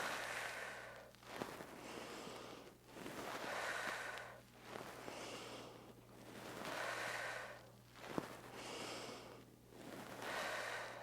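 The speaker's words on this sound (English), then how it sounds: "Inhale, exhale." Slow, deep breathing exercise for the respiratory muscles: about five long inhale-exhale cycles in a steady rhythm, close and fairly loud, with no talking over them.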